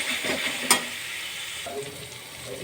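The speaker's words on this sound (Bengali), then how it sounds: "মশলাটা ভালো করে কষিয়ে নেব" Spice paste with garlic and chili stir-fried in a pan for chicken curry: a steady broadband sizzle with a sharp utensil scrape near the start and softer stirring scrapes later, close and continuous, with no talking.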